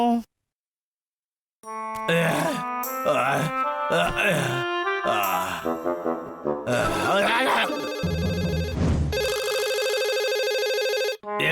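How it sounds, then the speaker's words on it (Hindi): A telephone rings in a Hindi-dubbed Boonie Bears cartoon, a sustained electronic ringtone near the end following cartoon character voices and exclamations with music, loud and close. "ये पक्का सर का फोन होगा।"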